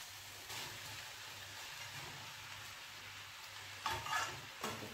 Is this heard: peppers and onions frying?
yes